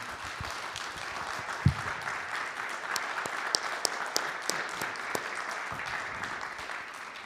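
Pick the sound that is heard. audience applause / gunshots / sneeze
audience applause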